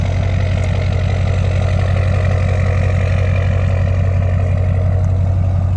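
Ford 6.0 Powerstroke diesel truck engine idling alone with a steady, loud, even low rumble and fast regular pulsing throughout.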